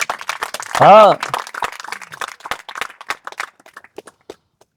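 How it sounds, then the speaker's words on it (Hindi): A group of people claps their hands in a gathering, producing a rapid, dense run of claps that slowly thins out. One voice briefly speaks over the clapping. "ताली मारो।"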